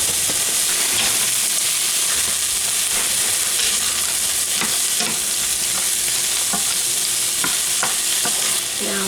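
Half of a 16-ounce bag of frozen peas sizzles and hisses steadily in a hot pan, with occasional clicks of stirring, close and fairly loud throughout with no talking.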